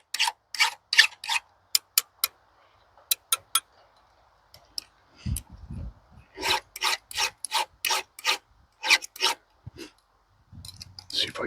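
A hand file rasps across the teeth of a chainsaw chain during sharpening on a cold morning, in steady repeated strokes with short pauses between runs, close and fairly loud, with a few soft knocks of handling.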